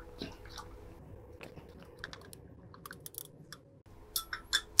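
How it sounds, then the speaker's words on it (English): A stir bar agitates and breaks up solid chunks in a flask during an aldol condensation, producing irregular clicking, scraping and crunching taps that grow sharper and louder toward the end. "take a stir bar and agitate it"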